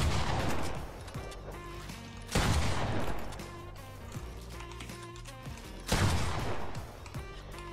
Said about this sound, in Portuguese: Eita, dei bala com a arma errada.